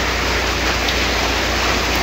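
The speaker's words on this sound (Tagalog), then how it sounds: "Umuulan na naman dito." Rain falls in the afternoon as a steady, dense hiss of even noise, constant and fairly loud throughout, with no voices.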